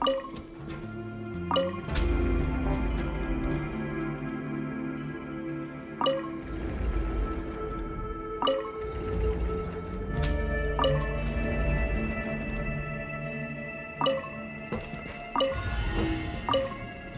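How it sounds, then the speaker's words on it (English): Rising water in a mechanism-driven chamber of a Genshin Impact fortress level, heard as steady dripping and squishy liquid filling over a game music bed, with a few sharper drip accents along the way. "Ooh, the water level's gone way up."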